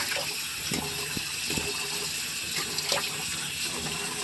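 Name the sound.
tap water running while rinsing during shaving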